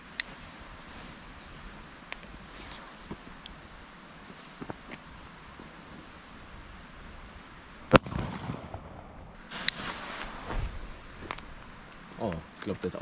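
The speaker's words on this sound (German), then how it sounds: "Alter, aber wenn man anfängt zu böllern, da erschreckt man sich am Anfang immer noch so." New Year's Eve fireworks and firecrackers going off, with scattered sharp pops early on, then one loud close bang and a cluster of crackling bursts and blasts over a steady background hiss.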